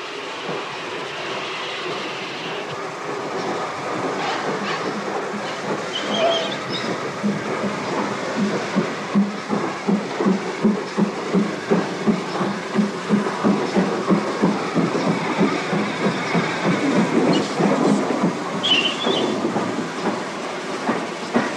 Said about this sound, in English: number 6000 is setting off to run down to Swindon Motive Power Depot for servicing and turning